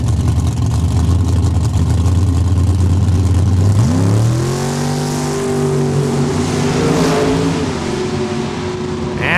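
A 1968 Firebird and a 1964 Belvedere launch off the starting line at a drag strip, loud engines droning and then rising sharply in pitch as they accelerate away, with a constant roar throughout.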